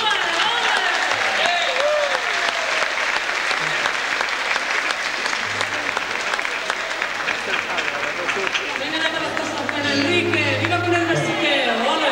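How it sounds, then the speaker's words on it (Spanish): Warm applause from a show audience at a Spanish-week concert in a Brazilian hot-springs resort, loud continuous clapping with crowd chatter and a few shouts mixed in, and a low hum rising near the end. "esos aplausos cariñosos"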